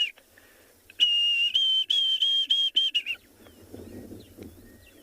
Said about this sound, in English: you can hear him. He's saying his name, Diedrich's cuckoo.